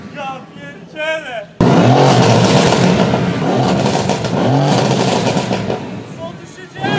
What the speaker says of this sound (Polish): Masz super samochód ze świetnie brzmiącym wydechem.